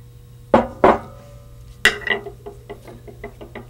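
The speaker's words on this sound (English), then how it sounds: "and put the lid on" Water sloshed inside a lidded glass blender jar in a chemistry lab, two sharp knocks and then a run of quicker, fading clunks and splashes as the jar is shaken.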